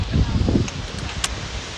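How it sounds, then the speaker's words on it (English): Wind gusts on a beach walk at a Butlin's holiday resort, buffeting the microphone with a loud, rough rumble that is strongest in the first half-second and then settles into a steadier blustery roar. "The wind is blowing my hair, guys."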